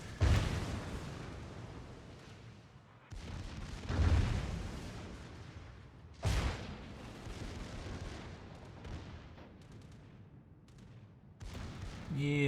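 Secondary guns firing in the naval video game World of Warships, around an Izumo and a Yamato, give deep booming blasts every few seconds, each fading into a rumbling tail.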